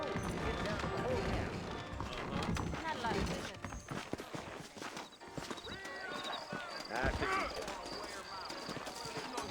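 Saddled horses in the Red Dead Redemption game clip-clop along a trail out of town. Hoofbeats patter steadily and close, with a whinny, and voices talk over them.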